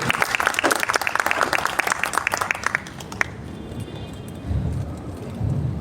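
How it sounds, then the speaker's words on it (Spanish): Audience applause at an in-person talk, dense clapping for about three seconds that thins out and fades, followed by low room murmur. "a quien le pido un caluroso aplauso"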